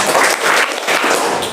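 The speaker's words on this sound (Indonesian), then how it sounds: "Silahkan tepuk tangan. Tepuk 3 kali" A classroom group claps hands in unison, three loud, close, evenly spaced claps with no talking over them.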